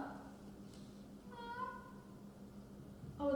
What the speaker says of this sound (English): Oh, there you are, you cute little kitten.